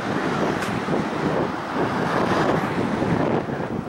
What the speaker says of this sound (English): We got a little headwind